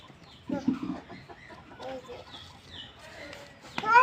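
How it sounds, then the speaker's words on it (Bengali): A rooster clucks nearby in short bursts, joined by softer fowl chatter and higher calls, with brief rustling and a louder outburst near the end. "ওই যে মোরগ ধরো দাও"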